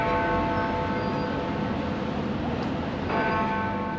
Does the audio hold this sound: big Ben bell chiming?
yes